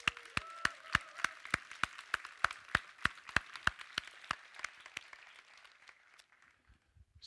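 Audience clapping for a conference host at an entrepreneurship event, a steady patter of claps that builds and then fades out near the end, moderately distant with no talk over it.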